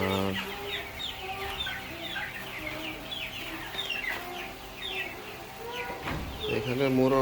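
Tiger breed hens, a flock of roughly one-year-old breeding layers, cluck and chatter continuously at close range, with busy overlapping calls and no voice heard.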